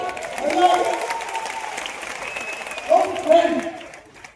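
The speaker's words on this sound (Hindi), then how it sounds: "अरे बजा दो ताली यार।" An audience claps at a Hindi talk, a moderate, fairly close patter of applause that swells near the end and then fades, with a voice heard briefly over it.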